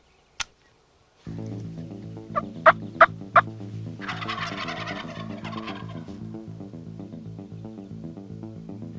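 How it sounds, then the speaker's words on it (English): Wild turkey toms gobble in a canyon, several sharp rattling calls spread across the stretch, heard over a steady droning background noise after a single early sharp click. "make these two toms fly all the way across the canyon"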